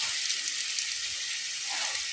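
Aloo puffs deep frying in hot oil, a steady, dense sizzle and crackle holding even and close throughout with no voices.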